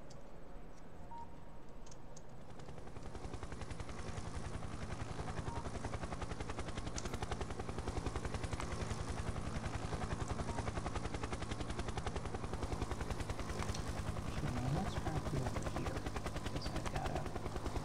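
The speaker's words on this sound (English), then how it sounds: "let's call the helicopter to me" A helicopter in the factory-building game Factorio flies with a steady, dense rotor drone and rapid chopping pulses, sustained and fairly loud throughout, with no talking.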